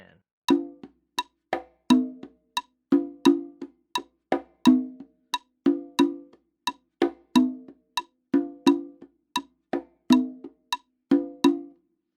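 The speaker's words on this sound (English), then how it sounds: "How do I play the shaker part on the conga drums?" Conga drums played by hand in a steady, quick rhythm of short sharp slaps and tones, evenly repeating like a shaker pattern, close and dry.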